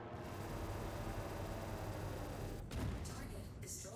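Ship guns in the Star Citizen space game fire in a dense, continuous rattling stream, loud and steady, with a heavier burst near the end.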